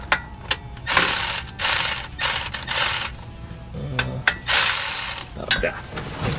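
A ratchet wrench loosening transmission pan bolts on a car with a broken-off transmission filter, clicking in quick repeated bursts close by, with brief pauses between runs.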